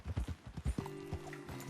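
Horse hooves clip-clopping in the Red Dead Redemption 2 video game, a quick run of loud, close hoofbeats, followed by a steady tonal hum with a few softer hoof thuds, no talking.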